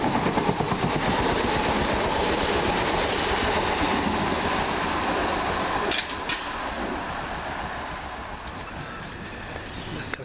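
A Southern class 377 passenger train rumbles past close by with a steady, loud roar and rhythmic wheel noise, easing slightly partway through; a voice talks over it.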